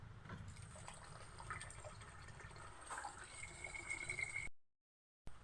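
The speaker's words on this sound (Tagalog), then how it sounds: "Lagyan na natin tubig." Tap water running into a pot for cooking rice, a steady, quiet gushing fill that stays close and even, then cuts off abruptly near the end.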